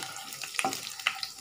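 Cumin and curry leaves fry in hot oil as a spoon stirs them, a continuous near sizzle broken by a few bright clinks and scrapes against the pan.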